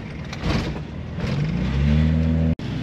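A Toyota Crown MS55 pulls away and accelerates, its engine rising in a steady mid-range drone with climbing harmonics before a brief dropout near the end.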